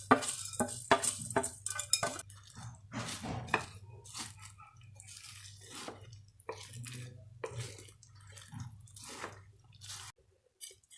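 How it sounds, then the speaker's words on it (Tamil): Fried boondi being stirred into sugar syrup in a bowl for laddu, giving soft wet squishes and scattered clinks of a spoon against the bowl in an irregular rhythm, close and fairly quiet. "இப்போ நம்ம பொரித்து எடுத்து வச்சுருக்க பூந்தியை அதில் ஆட் பண்ணிக்கலாம். ஆட் பண்ணிவிட்டு நல்லா மிக்ஸ் பண்ணி விட்டுடலாங்க"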